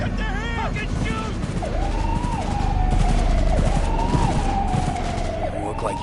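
Close, dense gunfire in Cyberpunk 2077 breaks out during a police bust. Rapid shots mix with a wailing siren and shouting voices.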